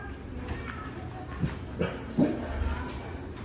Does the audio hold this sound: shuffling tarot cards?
no